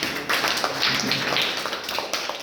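A crowd of people applauding a guest at a school health check-up camp, a steady wash of many hands clapping at once, moderately close, with a few louder individual claps standing out.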